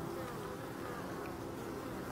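Bees buzz steadily at the entrance of a forest hive guarded by about forty sentinel bees, a dense close humming drone that runs unbroken from start to end with no voices.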